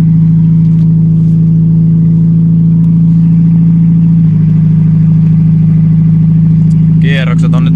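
A Ford Fiesta MK3 engine idles loud and close at steady revs, a continuous low hum holding even throughout, with a short higher rattle near the end.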